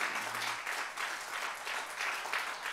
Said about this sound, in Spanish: Por favor, denle una ofrenda de palmas al Dios Todopoderoso.